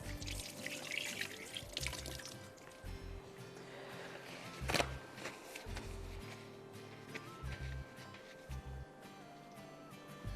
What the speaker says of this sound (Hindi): अब मैं ज़रा हाथ धो लूँ